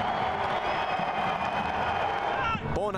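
A home soccer crowd roars after a goal at a Valour FC match against HFX Wanderers, with sustained loud cheering and a commentator's voice running over it.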